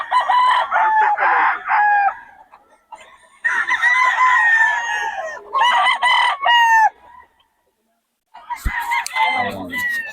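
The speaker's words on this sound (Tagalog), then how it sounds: "Mga manok." Several roosters crow loudly in long harmonic calls, one after another with short pauses, mixed with clucking and other fowl noises close by.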